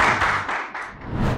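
Audience applause at a Honda award ceremony for the Moto de Ouro prize, a short burst of close clapping from a small crowd, rising and falling over about a second and a half.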